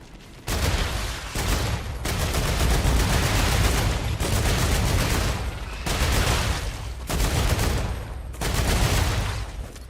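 Bursts of heavy automatic gunfire from the video game StarRupture, several long sustained volleys separated by brief pauses, loud and close with no talking over them.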